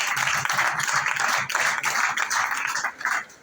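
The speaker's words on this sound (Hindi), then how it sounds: "उनके लिए गाबाना थोड़ी सी तालियां बजा दें" A room full of people clapping for a newly appointed area manager at a regional staff gathering, steady dense applause that dips briefly near the end.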